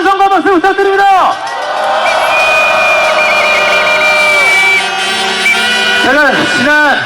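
Rally crowd outside a courthouse cheering and applauding for a singer, a loud sustained roar of voices and clapping with whistles over it, framed by a man's amplified speech at the start and end.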